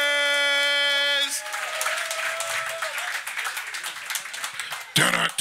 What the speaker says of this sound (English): Y'all go to start clapping